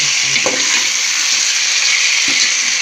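Curry leaves with green chillies fry in hot oil in a pan for veg biryani, a loud, steady close-up sizzle with a couple of brief stirring knocks.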